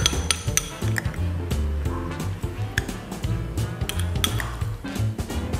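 A utensil stirs ingredients in a pan for Jimbaran-style grilled shrimp. It gives repeated metallic clinks and scrapes in an uneven rhythm, close and moderately loud, with no voices.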